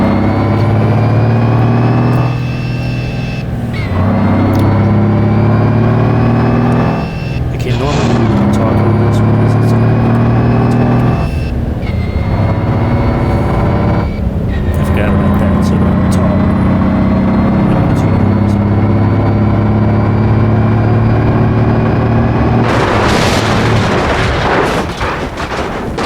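Truck engine in BeamNG Drive heard from inside the truck beneath the engine, a loud continuous low drone with steady harmonics that repeatedly shift pitch as if through gear changes, ending in a rougher burst; no talking.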